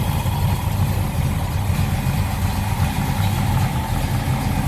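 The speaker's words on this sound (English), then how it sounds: "we got 428. Listen how smooth that runs." A 1966 Ford Galaxie 500 with a 428 V8 and headers idles smoothly, a steady low rumble that stays even and close for several seconds with no voices over it.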